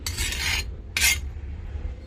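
Ridge gourd chutney with garlic pounded with a pestle, two short gritty scraping strokes close by, separated by a brief pause, with no talking.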